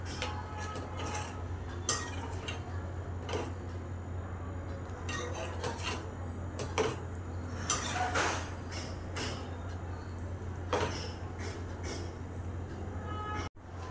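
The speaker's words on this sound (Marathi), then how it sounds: "चला तर मग मीठ घालूया आपण आणि ढवळून घेऊया।" Black pea curry being stirred in a metal pot after salt goes in, cooked in the traditional Konkani style: repeated sharp clinks and scrapes of a spoon against the pan over a steady low hum, with no talking.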